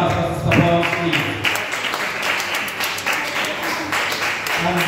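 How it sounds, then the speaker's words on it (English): Applause at a community gathering on a Jamaica night, scattered clapping from a modest crowd mixed with chatter and background voices, fairly close and moderately loud. "Can you give a round of applause for Sister Bond, please"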